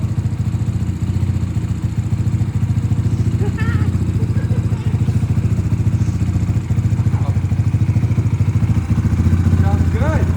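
Big-bore BBR-built Yamaha TTR125 dirt bike idling close by, a loud steady rhythmic putter throughout with slight revving at the end; voices talk faintly in the background.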